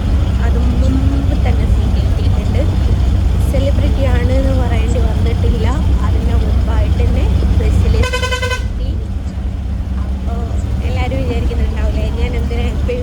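Riding inside a bus on a road, the steady low engine drone and road rumble continue beneath talking, with a loud horn blast cutting through midway and fainter honks around it.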